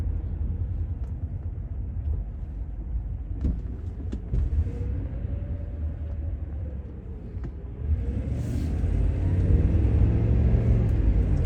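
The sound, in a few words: 1999 Ford Crown Victoria engine accelerating and downshifting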